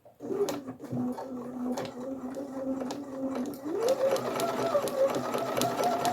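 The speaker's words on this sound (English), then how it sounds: "Put back down, start sewing." Up close, a sewing machine stitches through heavy fabric for a Christmas stocking, a steady mechanical whir that shifts up in pitch partway through, with light clicks and rustles throughout.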